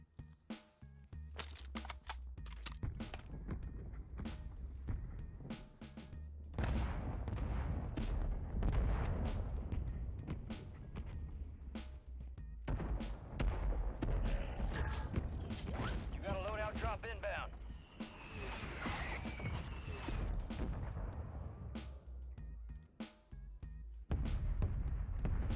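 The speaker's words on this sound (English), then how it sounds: "friendly mortars strike inbound" Call of Duty Warzone mortar strike on Rebirth Island: repeated loud explosive bursts and rumbling impacts roll through a busy, continuous game mix, with heavy low-end thuds scattered across the stretch and a player talking over parts of it.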